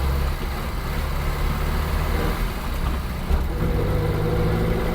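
A 1963 325 Regal car with a 600cc engine idles nearby, giving a steady, low rumbling drone that stays even throughout with no talking.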